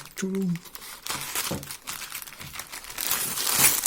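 Parcel packaging from an AliExpress order being torn and crinkled open, a steady run of close plastic rustling and crumpling; a voice speaks briefly at the start.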